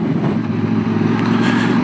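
A QJ Motor SRT600S motorcycle rides along a dirt path, its engine droning steadily and loudly up close with a continuous mid-pitched hum and no speech.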